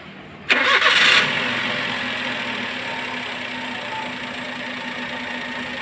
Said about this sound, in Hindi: मैं ये गाड़ी स्टार्ट कर रहा हूँ